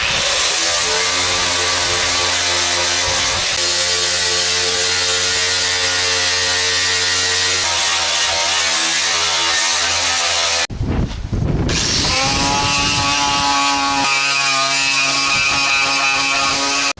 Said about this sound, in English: Now I'm grinding off all the paint in this area